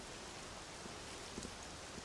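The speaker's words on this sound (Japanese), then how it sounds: "雨降ってるやん。" Steady rain in the video game Dragon Quest XI S, a soft, continuous hiss heard alone with no distinct drops standing out.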